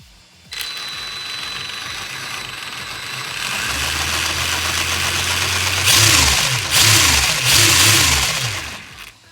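Losi LMT monster truck's electric RC motor winds up on throttle, a steady whine that builds and then surges in three sharp bursts near the end, fairly loud and with no talking over it.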